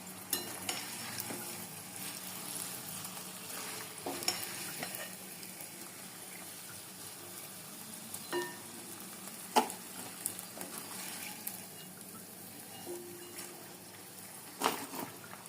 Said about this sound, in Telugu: ఇలా కలుపుకుంటూ ఉండాలి వేగిపోయాయి